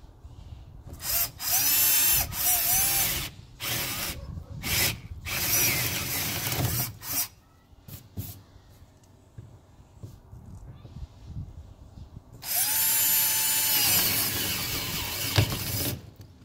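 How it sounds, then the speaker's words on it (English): A power drill bores holes with a larger paddle bit during shop electrical box layout, sounding in several loud whirring bursts of varying length separated by quiet gaps, with a long final burst near the end. "Then I get a larger paddle bit."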